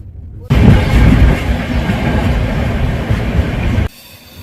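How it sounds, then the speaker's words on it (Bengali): The Kanchan Kanya Express runs on the rails between Barsoi and Siliguri with a loud, continuous rumble and rattle heard from inside the moving train, ending abruptly near the close. "আমাদের ট্রেনটা কিরকম বাগ নিয়ে চলেছে দেখো"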